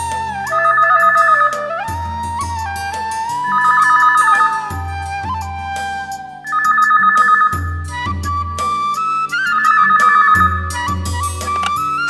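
A telephone rings loudly in a home with a melodic electronic ringtone. Four repeating ring bursts come at a steady pace, mixed with background music.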